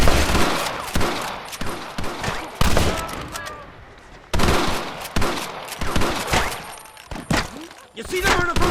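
Rapid bursts of gunfire in a Red Dead Redemption shootout, repeated volleys of loud, close shots in uneven clusters with brief lulls, mixed with shouting voices.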